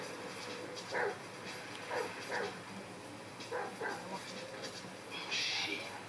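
Dogs barking in a video game, a few short yelps and barks spread over the span amid steady game background noise, fairly faint and without talk.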